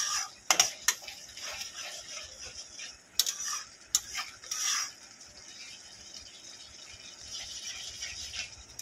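Spice masala cooked with tomato paste in a pan is stirred with a ladle, a few sharp scrapes and clinks early on, then a faint, quiet sizzle and soft stirring continuing without speech.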